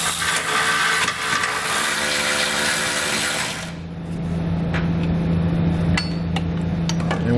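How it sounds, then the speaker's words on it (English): A 16mm socket on a tool loosens and removes the factory jounce stop bolts during a Firestone Ride-Rite Red Label Extreme Duty air helper spring install. A loud, steady mechanical whir runs throughout and shifts in tone partway through. "we'll grab a 16mm socket and we'll pull both of those bolts out"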